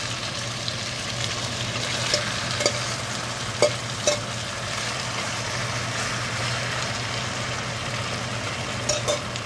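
Marinated pork for menudo fries in a pan with a steady sizzle, while occasional sharp clinks and scrapes of stirring sound up close, with no talking.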